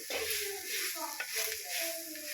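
Ivy gourd (tondakaya) frying in a pan gives a loud, continuous hissing sizzle with light stirring scrapes, while a voice speaks faintly underneath.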